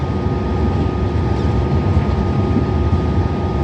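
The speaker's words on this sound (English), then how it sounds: "The departing HCMT right next to it." A departing HCMT train in Melbourne's City Loop gives off a loud, steady, rumbling roar with a deep drone throughout, close and continuous with no talk.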